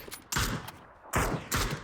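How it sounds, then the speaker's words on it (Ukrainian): Gunfire in PUBG on the snowy Vikendi map during a tournament match: three loud, sharp bursts of shots separated by short gaps, with no talk over them. "Кавабунга і Формар стріляються з командою Маклея"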